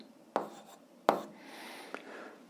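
Pen or chalk strokes while writing out an algebra solution: a few quick, faint scratching taps, close and quiet, with no talk.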